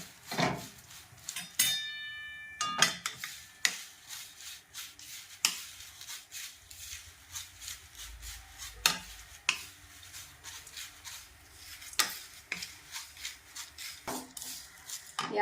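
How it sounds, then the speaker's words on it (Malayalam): Rice flakes dry-roasting in a hot pan, stirred with repeated scraping and light rattling strokes, close and fairly quiet, with no voices. "2 കപ്പ് അവല് ഇട്ട് കൊടുത്ത് ചെറുതായിട്ട് നമുക്കൊന്ന് വറുത്ത് വരാം"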